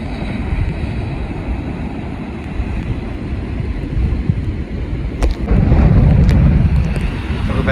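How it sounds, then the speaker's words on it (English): Stormy surf at St Lucia river mouth rumbles in a continuous low wash mixed with heavy wind buffeting on the microphone, swelling louder near the end as a big wave breaks. "It looks like a pretty decent sized wave coming now."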